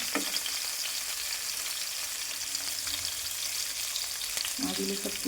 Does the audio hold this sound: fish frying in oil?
yes